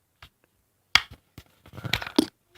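The snap fastening on a Ka-Bar 1477CB knife sheath clicks shut, giving a few sharp, close, fairly quiet snaps and clicks amid soft rustling and handling noise, with no talking.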